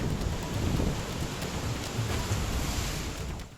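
Floodwater after heavy rain in Kargil roars in a dense, continuous wash of noise, loud and steady throughout with no voices.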